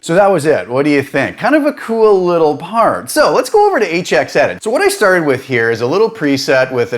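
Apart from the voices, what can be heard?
No everyday noise stands out behind the speech.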